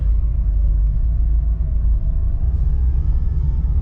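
A Nissan Versa with a blown CVT transmission drives in low range, producing a constant deep engine and road rumble with no clear shifts.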